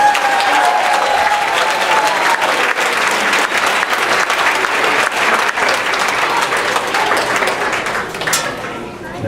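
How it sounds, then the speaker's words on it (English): An audience gives the parents a long, loud round of applause, dense and sustained throughout before it tapers off at the very end. "Give them one more round of applause."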